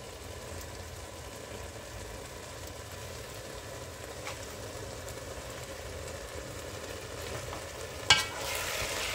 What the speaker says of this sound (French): Donc il faut rester là pour remuer les matembele.